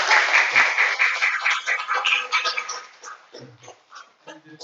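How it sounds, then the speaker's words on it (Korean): Church congregation clapping at a youth Sunday service, a dense wash of applause that is loud at first, then thins and fades toward the end, with some voices mixed in. "여러분들이 다 같이 한 거니까 박수를 2배로 더 크게 해주세요."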